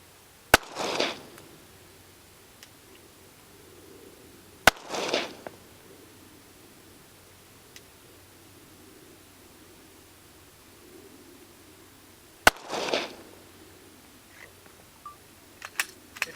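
Three sharp, loud gunshots from handloaded and factory ammunition crack outdoors several seconds apart, each followed by a short rolling echo, with faint quiet between.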